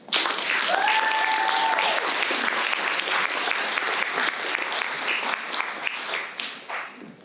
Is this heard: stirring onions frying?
no